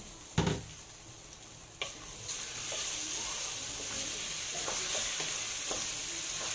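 Rice is sautéed in lamb fat in a pot with a soft, steady sizzle. A few sharp knocks and scrapes from stirring come through, and the sizzle gets slightly louder as it goes on.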